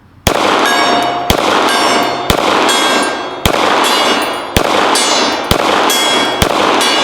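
A competition pistol fires at a steel gong target, about seven sharp shots at a steady pace, each followed by a loud ringing clang that sustains until the next hit.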